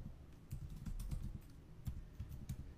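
A website address is typed into a browser on a computer keyboard, giving quiet, close, fairly rapid keystroke taps in irregular bursts with no talking.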